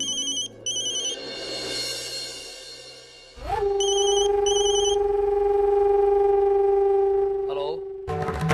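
A telephone rings in a Hindi TV drama scene: bursts of bright electronic ringtone, then a long steady tone that holds for several seconds before cutting off.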